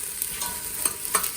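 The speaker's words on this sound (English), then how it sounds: "But you hear that sizzle? It's ready. So I'm going to put the onions in." Onions sizzling and being stirred in a hot pan for borscht, a close, steady frying hiss with light scraping and stirring clicks, no voices.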